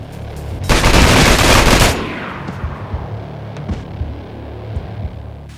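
Police open fire in the video game Manhunt: a loud, dense burst of rapid automatic gunfire lasting about a second, followed by scattered fainter shots and echoing reports.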